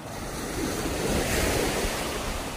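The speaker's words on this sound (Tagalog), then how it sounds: "talbukan din ang alon" Choppy ocean waves churn and wash in a steady loud roar, with wind buffeting the microphone and no voices.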